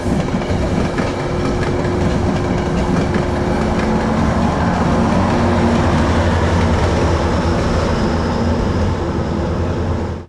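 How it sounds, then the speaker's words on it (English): A Metro-North deadhead train heading westbound on Track 3 rolls past close and loud, with a steady roar, rhythmic clickety-clack of wheels over rail joints and faint squeal, filling the whole stretch. "a deadhead move from Bridgeport of Metro-North Train 1997 westbound on Track 3"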